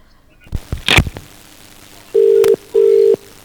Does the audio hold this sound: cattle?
no